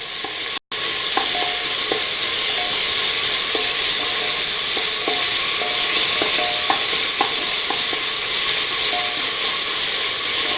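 Onion, curry leaves and green chili sautéing in a pan for mezhukkupuratty: a loud, steady sizzle with intermittent stirring scrapes, close up and with no talk.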